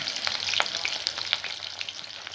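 Onions fry in a pan as the base of an Egyptian tomato sauce for stews and stuffed vegetables, giving a steady close crackling sizzle with small pops throughout and no talking.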